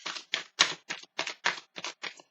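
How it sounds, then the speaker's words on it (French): A deck of tarot cards is shuffled by hand in quick, evenly spaced riffling bursts, about ten crisp rustles close up and alone. "Je mélange un peu les cartes et c'est parti."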